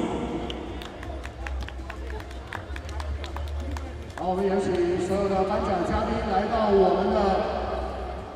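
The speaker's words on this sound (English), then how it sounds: "Warm round of applause, please." A crowd at a basketball championship ceremony claps in scattered, rhythmic applause under an announcer's voice, then louder crowd noise and chatter swell in with continued speech.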